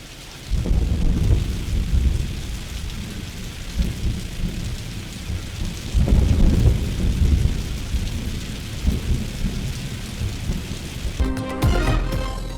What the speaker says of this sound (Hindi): मुख्तलिफ इलाकों में बादल बरस पड़े।